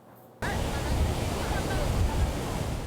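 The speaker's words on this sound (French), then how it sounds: "Des vagues de plus de 4 mètres, grossissant à vue d'œil." Large ocean waves, more than four metres high, crash at Tamarin in a loud, continuous roar of surf that starts abruptly and keeps going, with wind noise on the microphone.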